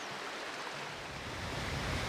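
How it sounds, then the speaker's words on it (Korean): A waterfall on the upper Bukhan River near the DMZ roars in a broad, steady rush of water, loud and unbroken, with no voices over it. "우렁찬 폭포 소리가 먼저 반겨주는데요"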